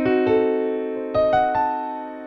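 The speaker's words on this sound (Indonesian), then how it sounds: "kalau full diminished itu bunyinya seperti ini" A full diminished seventh chord rings out on a keyboard as a sustained stack of evenly spaced notes, first struck as a block and then restruck and arpeggiated upward in a few separate attacks, clear and close with no voices.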